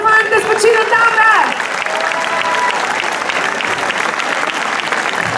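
Audience applause at a festival award ceremony at Vurberk, with loud, dense clapping that swells at the start and then holds steady as a sustained crowd ovation. A brief voice is heard near the beginning.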